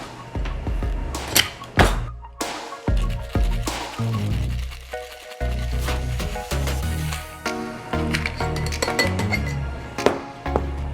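Ice rattles and clinks inside a cocktail shaker as a bourbon drink with peppercorn brown sugar syrup is shaken, loud rhythmic bursts of clattering with brief pauses between.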